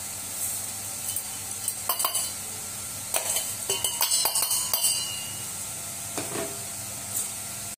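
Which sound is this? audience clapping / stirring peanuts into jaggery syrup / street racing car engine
stirring peanuts into jaggery syrup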